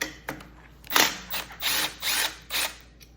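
A ratchet loosens a 10mm bolt near the upper radiator hose on a Honda VTX, in five or six close, quick clicking bursts with short pauses between.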